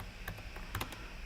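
Quiet computer keyboard typing during a Matlab lecture: a handful of soft, uneven keystroke clicks in quick succession, faint and close, with no speech.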